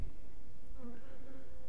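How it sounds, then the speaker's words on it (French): A wasp buzzes near beehives in an apiary, a steady close insect drone with slight pitch wavering, alone and fairly clear. "Il y a encore une guêpe là."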